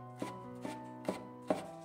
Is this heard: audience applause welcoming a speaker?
no